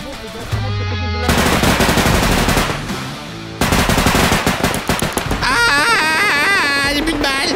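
Automatic gunfire from the realistic first-person shooter game Bodycam, loud sustained bursts of rapid shots broken by brief pauses, with a short quieter lull early on and dense ringing fire toward the end.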